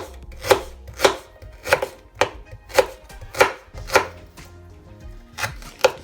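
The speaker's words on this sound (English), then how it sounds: "I'll cut my ginger." A knife chops fresh ginger on a cutting board while preparing spicy grilled salmon, about ten crisp, evenly spaced strikes close up with no talking.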